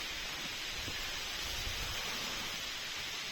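Heavy rain falls on a mountain trek to the Dayara Bugyal meadows near Barsu, Uttarkashi, as a steady, fairly faint, even hiss with a soft low rumble underneath and no voices.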